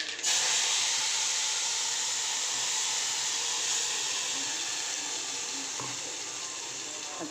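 Ground tomato paste hits hot oil that already holds popped mustard seeds, cumin, asafoetida and curry leaves, giving a loud, steady sizzling hiss that fades only slightly as it goes on.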